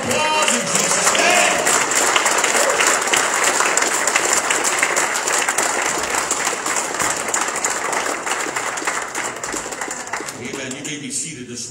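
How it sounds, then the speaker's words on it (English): Church congregation giving a loud round of applause at a Resurrection Sunday service, a dense continuous wash of many hands clapping that slowly fades toward the end, with voices mixed in. "Give the Lord a round of applause in Jesus' name."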